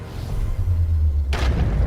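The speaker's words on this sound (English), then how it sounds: "we're gonna get a cool cut sequence right as he busts through the cathedral door" A Grey Knight in Chaos Gate Daemonhunters bursts through a cathedral door, a sudden loud booming crash landing partway in over a low rumbling game score.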